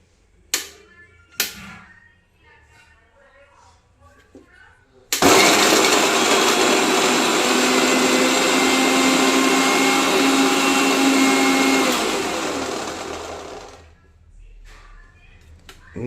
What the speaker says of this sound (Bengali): এবার আমি পাউরুটিটাকে পিষে নিচ্ছি।